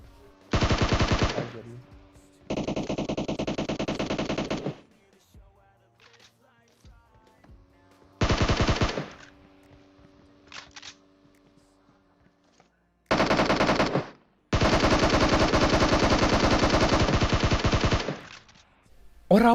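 Automatic gunfire in the PUBG Mobile battle royale game comes in long, loud, rapid bursts separated by short pauses, with some quieter game sounds in the gaps.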